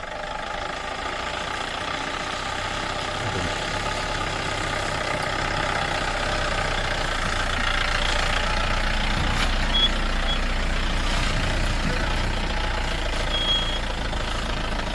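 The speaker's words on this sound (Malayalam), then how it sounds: "വണ്ടി രാവിലെ സത്രത്തിൽ പോയിട്ട് വരുന്ന വണ്ടിയാണ്." A vehicle returning in the morning from Sathram on the route toward Vallakkadavu, near Mullaperiyar, gives a steady, continuous engine rumble that holds at an even level throughout, with no voices.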